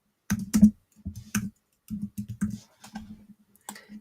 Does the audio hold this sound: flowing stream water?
no